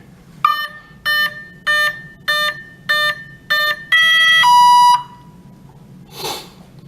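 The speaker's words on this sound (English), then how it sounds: "it's going to have 6 beeps, indicating it's a 6S LiPo battery" An electronic speed controller gives a series of six short beeps in even rhythm, signalling a 6S LiPo battery, followed by a longer two-tone beep, loud and close.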